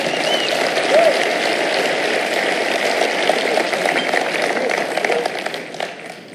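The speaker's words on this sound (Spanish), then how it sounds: "Dele un aplauso al Señor." Church congregation clapping together at a Spanish-language conference service, a dense, steady wash of applause that holds loud throughout, with faint voices mixed underneath.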